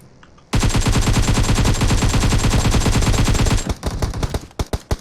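Sustained rapid automatic gunfire in a Turkish battle-royale-style video game firefight, loud and continuous bursts for about three seconds, then breaking into a few separate shots and trailing reports.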